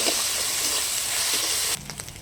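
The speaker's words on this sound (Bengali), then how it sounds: "কালো জিরা সম্বাদ দিয়ে দিলাম, পেঁয়াজটা কুড়িয়ে রেখেছি দিয়ে দিলাম" Onion and black cumin seeds hitting hot oil for a Bengali katla fish curry, a loud close continuous sizzle that abruptly drops to a quieter crackle with a couple of clinks.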